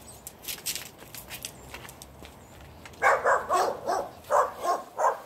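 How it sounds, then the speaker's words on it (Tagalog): Small dog giving a quick series of sharp, high barks close by, several in a row after a stretch of quieter shuffling and faint background noise, with no clear talk. "Yan tahol siya"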